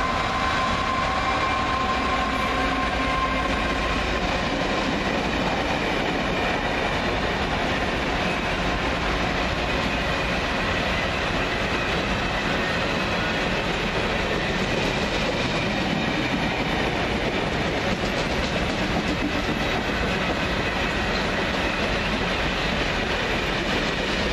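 A departmental train rolls steadily along the railway line near Oxford, a continuous broadband rumble of wheels and carriages with faint clickety-clack, loud and close throughout with no voices.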